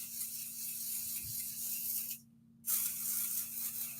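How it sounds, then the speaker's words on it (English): Pixie spray hisses from an aerosol can onto the back of a stencil in bursts, with a short pause partway through, close and fairly quiet, no one speaking. "I'm going to actually put some pixie spray on the back of here"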